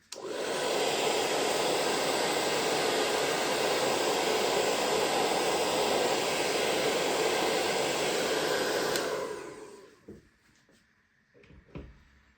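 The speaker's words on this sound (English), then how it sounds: "hair dryer." A hair dryer blows steadily and loudly over wet watercolor paper for about nine seconds, then cuts off, leaving faint handling knocks and rustles.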